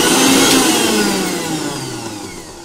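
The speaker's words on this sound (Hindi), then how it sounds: "तो यहाँ पे देखिए हम ग्राइंड करेंगे।" A kitchen mixer grinder churning cream with water, a loud, close, continuous high whir that fades slightly toward the end.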